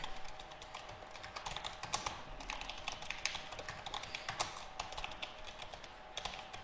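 Steady, rapid typing on a computer keyboard, a dense run of light clicks over a faint constant background hum, close by and quiet, with no voices.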